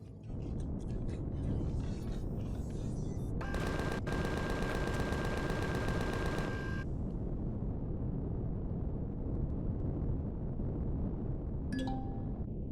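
Gunfire in the space survival game Empyrion Galactic Survival, a rapid burst of automatic shots in the middle over a steady loud mechanical rumble, with a brief sharp report near the end.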